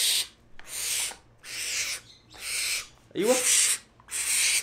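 Pet owl, a young bird now grown past the chick stage, gives a series of five or six raspy hissing calls in regular bursts, close and fairly loud, with a brief voice interjecting once.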